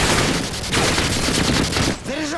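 Dense bursts of automatic gunfire rattle almost continuously during a Search and Destroy match in the video game Modern Warfare 2, loud and close, ending with a brief tonal game sound.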